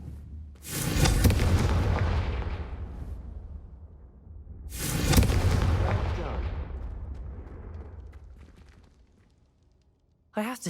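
Two loud explosive blasts from the Confringo fire spell in Hogwarts Legacy, each a sharp boom that rolls off into a long decaying rumble, followed by a brief sound at the end.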